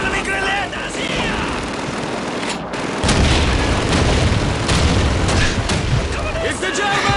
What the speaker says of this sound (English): Look out! Enemy grenade!